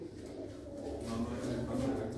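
Pigeons in an open loft give soft, low cooing calls, faint and continuous under the quiet background.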